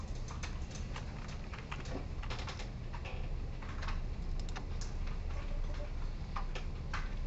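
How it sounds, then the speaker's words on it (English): Students in a lecture room tap on computer keyboards, a scatter of quiet clicks and taps over a steady room hum, irregular and fairly faint, with no one talking. "Sorry for guys who are still typing."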